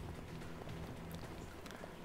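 In Paladins, hoofbeats from a mechanical robot's horse mount clip-clop quickly and evenly, quiet and steady throughout.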